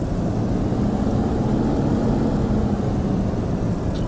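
Propeller-driven FW-190 A-8 fighter in DCS World taxiing on the ground, a steady, loud engine drone and rumble holding constant throughout with no voices.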